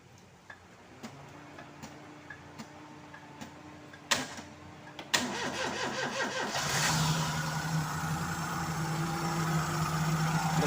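A Perodua Kancil 1000cc car engine with its cylinder head just refitted cranks with a few sharp clicks, then fires and settles into a loud, steady idle that continues to the end, heard up close with no talk.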